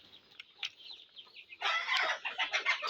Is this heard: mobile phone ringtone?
no